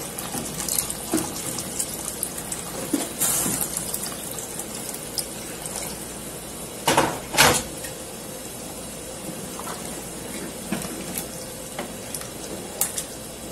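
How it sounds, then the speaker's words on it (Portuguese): Water runs steadily into a pressure cooker in a continuous low wash, with a couple of louder splashing surges midway and faint clinks in the background. "Agora eu vou colocar água, ó, bastante água, tá?"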